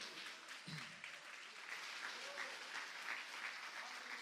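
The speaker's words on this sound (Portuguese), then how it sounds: "quem pode aplaudir ao Senhor?" A church congregation applauds during a sermon, steady crowd clapping throughout at a fairly low level, with a brief thump early on.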